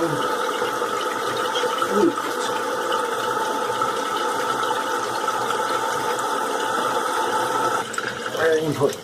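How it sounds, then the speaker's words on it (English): Water rushes steadily into a toilet tank through a newly replaced refill valve, a loud continuous hiss and trickle lasting throughout, with a short gurgling change near the end. "We'll turn on the water."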